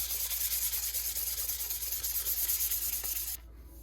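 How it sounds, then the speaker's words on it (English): Scissor blades are sanded with 800 grit abrasive, a continuous hissing rub with a steady pulsing rhythm, close and even, stopping abruptly just before the end. "I'm going to try to smooth them up a little bit here with some 800 grit."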